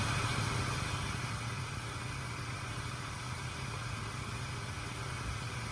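A laptop fan runs hard while the machine exports 4K video without an external GPU, producing a constant, dense whooshing hiss that stays steady and fairly loud throughout.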